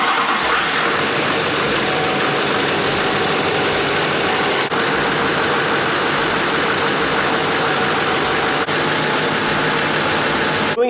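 An LMM Duramax diesel engine fitted with an RDS turbo idling after start-up, a loud, close, steady rumble with a broad hiss and clatter, running continuously with no talk.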